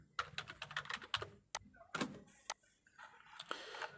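Keys on a computer keyboard clatter in quick irregular bursts of close, crisp taps, quiet overall, with brief pauses between runs of typing.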